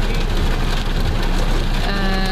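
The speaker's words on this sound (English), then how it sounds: "It's raining a lot," Heavy rain falling at night in Las Vegas, a steady dense hiss that fills the whole stretch alongside a low engine rumble, with no talking.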